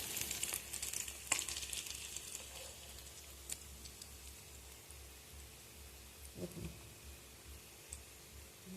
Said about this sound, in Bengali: আমার বেশ একটু লাল করে ভাজা হয়ে গেছে